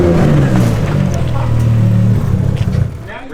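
Nissan R32 Skyline engine revving loudly up close in a rising and falling surge, dropping away near the end as it stalls, with voices over it.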